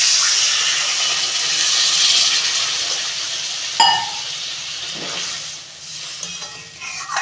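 Water poured into a pan of sizzling potato, pointed gourd and egg curry, a loud hissing sizzle that jumps briefly as the water hits, then settles into a softer bubbling simmer.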